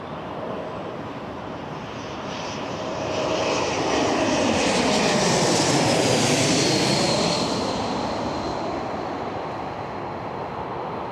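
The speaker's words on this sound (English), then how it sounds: "A320 from Montreal." An Airbus A320 jet airliner arriving from Montreal roars past at Toronto's airport, a steady broad engine rumble and whine that swells to a peak midway and slowly fades, with no voices over it.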